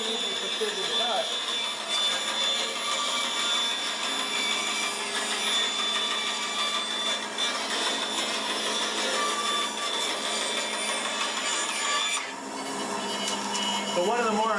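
Saw cutting an organic wooden skateboard shape at a college skateboard-making workshop: a loud, steady high whine drones on without a break for the whole stretch, with a brief dip near the end.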